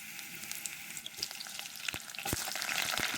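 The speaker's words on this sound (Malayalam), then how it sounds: "അതിലേക്ക് നെടുകെ കീറിയിട്ടുള്ള പച്ച ചക്കച്ചുളകൾ ഇട്ട് കൊടുക്കുക" Raw jackfruit pieces hit hot coconut oil and fry with a busy, close crackling sizzle that swells louder and denser in the final second.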